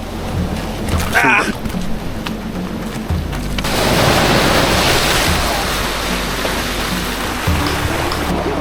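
Surf rolls and washes ashore in a broad hiss, mixed with wind and some voices talking nearby.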